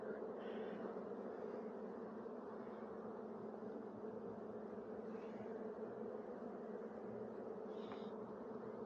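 Honey bees buzzing around a mini nuc hive, a low, steady droning hum with individual bees passing close now and then, quiet and continuous with no talking.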